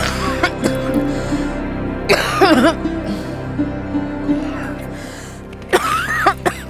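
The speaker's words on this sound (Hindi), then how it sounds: "मासा खांसी है कब से?" An unwell elderly person in a home drama scene gives several harsh, throaty coughing fits in separate bursts, close and fairly loud, with quieter rasping breaths between them.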